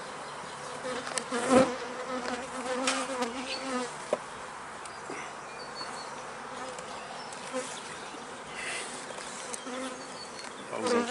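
Honeybees buzz steadily around a hive being closed up after grafting and syrup feeding, a dense close swarm drone with a few louder passes near the microphone and one brief spoken word.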